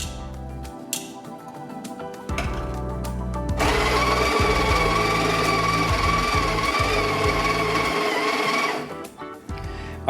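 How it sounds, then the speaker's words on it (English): Breville Smart Grinder grinding an 18-gram dose of coffee beans, a loud, steady whirring grind that builds partway through and runs continuously before tapering off, with no talking. "So let's go ahead and grind the 18 grams."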